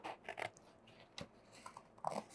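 Scissors snip through a paper figure in a few quick, crisp cuts, close and fairly quiet, with short gaps between the snips and no voice.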